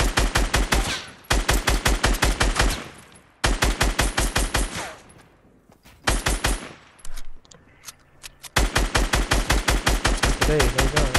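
Rapid automatic gunfire in a video game shootout comes in several long, loud bursts of evenly spaced shots, broken by short pauses with faint scattered sounds between volleys.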